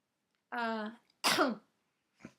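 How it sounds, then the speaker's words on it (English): A single close cough from someone with a sore throat, a sharp breathy burst, then a short pause and a faint second catch of breath; a brief voiced sound precedes it. "rather I have a cough"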